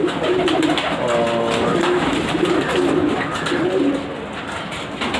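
A pigeon coos in soft, low, repeated rolling calls close by, with a little background noise around it.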